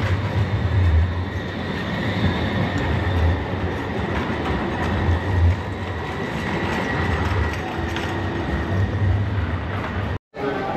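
A tram running through Seville, Spain, gives a steady loud rumble with low rhythmic pulsing and a faint high whine throughout, with no voices over it.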